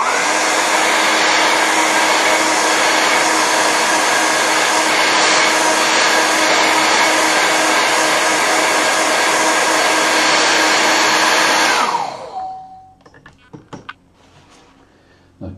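A hair dryer blows steadily on a watercolour painting of a Tuscan farmhouse, a loud continuous whoosh with a whine that lasts about twelve seconds before cutting off and winding down.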